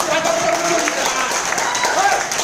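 Audience clapping steadily for a husband and wife called onto the stage at a business event, a dense, fairly loud patter with a voice faintly present underneath.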